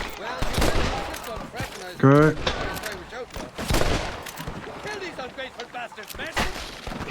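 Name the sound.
gunshots from a rifle in Red Dead Redemption video game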